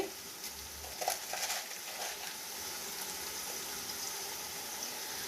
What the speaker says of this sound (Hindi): अब इनको मैं बहुत अच्छे तरीके से सारा ये प्याज को गोल्डन होने तक फ्राई करूंगी